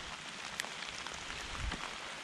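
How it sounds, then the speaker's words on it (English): Heavy rain falling outdoors near a food plot, a dense, steady hiss with scattered drop impacts, continuous and fairly loud throughout with no talking. "but it's raining like crazy."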